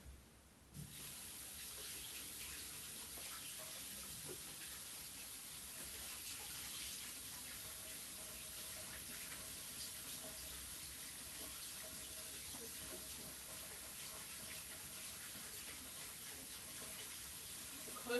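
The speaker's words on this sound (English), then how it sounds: "Some hot water." Hot water runs steadily from a kitchen tap in a home kitchen during pie baking, a continuous close splashing rush that starts after a brief quiet moment and holds evenly throughout with no talking.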